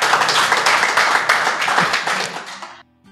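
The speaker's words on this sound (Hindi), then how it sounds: "तो एक बार मैं ताली बजवाना चाहता हूँ टीआरडी के लिए।" An audience claps for a team in a dense burst of applause that holds steady, then fades and cuts off after about three seconds, with no talk over it.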